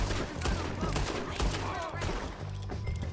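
Gunfire from the video game Red Dead Redemption 2 during a beach fight: dense, loud bursts of shots, one after another, run through the whole clip, with shouting voices mixed in.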